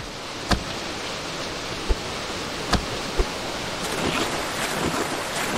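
Water in Greak: Memories of Azur washes and rushes with a steady surf-like hiss, broken by a few sharp clicks and thumps, and the texture shifts in the last seconds.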